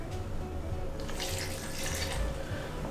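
Water poured from a kitchen tap into a cup while making vegan ranch dressing, a continuous close rushing stream that grows brighter midway and runs throughout without talk.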